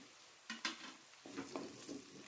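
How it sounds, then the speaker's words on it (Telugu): Onions and green chillies with curry leaves fry in a pan, giving a soft, steady sizzle broken by a few brief scrapes and clinks of a stirring spoon, quiet and close with no talk. "ఆనియన్స్, పచ్చిమిర్చి బాగా ఫ్రై అయ్యాయి. ఇప్పుడు కొద్దిగా కరివేపాకు వేసుకున్నాం."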